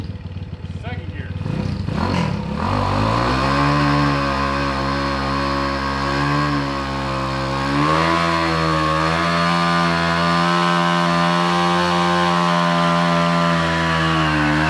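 Hot-rodded Honda Trail 70 fitted with a 190cc engine being ridden, a loud close buzzing exhaust that revs up hard, dips at a gear change and then holds a steady high drone.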